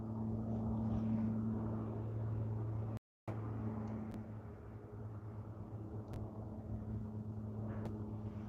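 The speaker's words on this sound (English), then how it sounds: "flight radar tells me this is Kelowna flight craft Convair 340 coming in from Victoria" Convair 340 propeller airliner arriving at Vancouver International Airport, a steady low droning engine hum heard from a distance, faint and continuous, with a brief dropout and a few sharp clicks.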